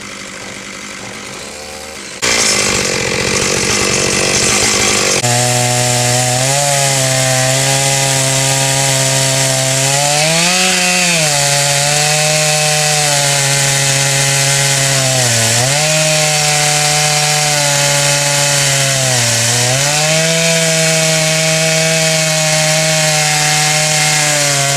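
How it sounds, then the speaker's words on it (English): After a short rustle, a chainsaw roars to life trimming a big cedar log, a loud, sustained engine whine that dips and rises in pitch as the chain bites into the wood. "Deafening roar of the chainsaw indicates that we're moving right down the log"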